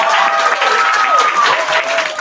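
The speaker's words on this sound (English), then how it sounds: "Clap her again." Applause from a crowd at a 2021 graduation ceremony in Atlanta, steady and fairly loud throughout, with some cheering and voices mixed in.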